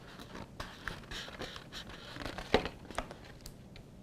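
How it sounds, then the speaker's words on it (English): Craft card being folded and pressed into a corner of an advent calendar box, giving faint, close crinkles and soft taps in a quiet setting. "fold this little section up and pull your other piece of card up to match."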